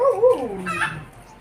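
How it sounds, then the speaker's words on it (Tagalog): Chickens sound close by, a rooster's short rising crow and clucks coming in a brief burst that trails off quickly. "Saway ni mga manok."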